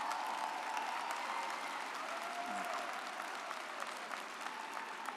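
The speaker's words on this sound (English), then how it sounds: "So give yourselves a round of applause." Steady applause from a large crowd at a university commencement ceremony fills the whole stretch, dense and even, with no break in the clapping.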